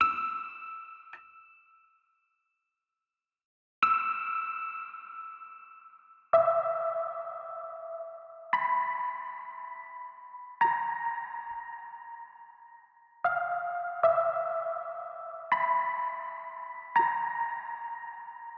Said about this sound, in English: that alone is that classical intro trailer sound